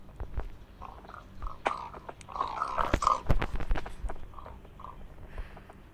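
A dog chews and crunches at close range, with low growls, wet bites and breathy snorts in an irregular rhythm. The sounds are quiet and no one talks.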